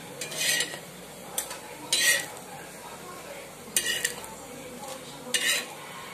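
Cutlets of moong dal and poha lifted off a griddle onto a dish, with a metal spatula scraping and clinking in a few separate bursts over a faint sizzle.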